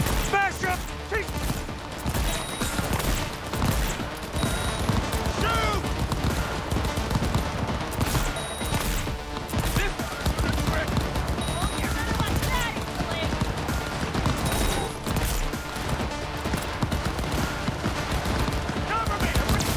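Sustained gunfire from a firefight in the video game Cyberpunk 2077, with dense, continuous shots and clatter and voices calling out over the battle throughout.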